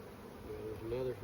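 Honeybees hum at an open hive during a frame inspection, a steady low drone of many wings close by, with someone speaking briefly over it.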